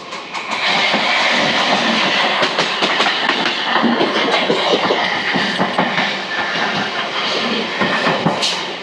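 A Chennai suburban local train runs at speed with a loud, continuous rumble and rhythmic clatter of wheels on track, heard from inside the carriage.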